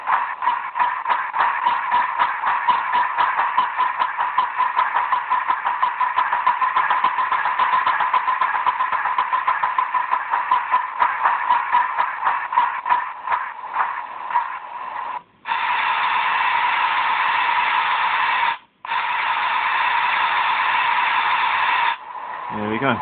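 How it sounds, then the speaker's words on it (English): A Digitrax DCC sound chip fitted in a Britannia 4-6-2 model steam locomotive plays rapid, evenly repeating chuffs that speed up, then settle into a steady loud rush with brief drop-outs. "And then now we've got the chuff sounds."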